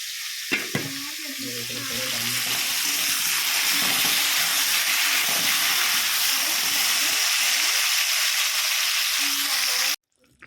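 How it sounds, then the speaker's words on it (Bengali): Fish curry broth with drumsticks and potatoes boils hard in a pot, a steady, close hiss of bubbling and sizzling that holds for about ten seconds before stopping abruptly. "ফুটে উঠেছে আমি ঝোল দিয়ে দিয়েছি মাছগুলো দিয়ে দিয়েছি সজনে ডাটা আলু ফুটছে"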